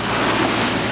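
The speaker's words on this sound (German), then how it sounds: "Oh, das Meer ist ganz schön aufgewühlt." Rough, churned-up sea at the pass of Toau atoll in French Polynesia, heard from a sailing yacht as a loud, steady wash of surf and rushing water mixed with wind noise on the microphone.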